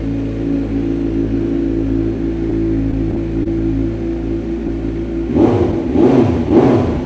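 A 2020 Kawasaki Z900 SE motorcycle engine idles steadily and close by, then is blipped into two or three quick throttle revs that rise and fall near the end.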